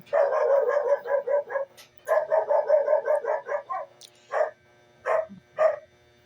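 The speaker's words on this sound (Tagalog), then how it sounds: "Yan ang ingay ng aso namin." A dog barks in rapid bursts of repeated yaps, then a few separate single barks, close and loud with no talking.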